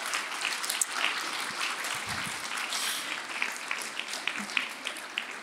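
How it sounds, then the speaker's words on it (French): Moderate applause from an audience at a conference on fighting corruption, steady dense clapping heard at a distance, with a few louder claps standing out near the end. "On peut l'applaudir"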